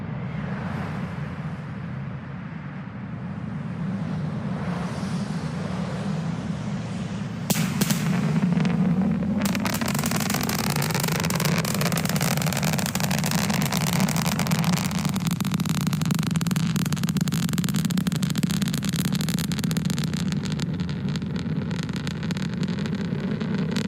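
SpaceX Starship test flight launch heard from a distance, a low rumble that suddenly swells into a loud, crackling, thunder-like roar and rolls on steadily to the end.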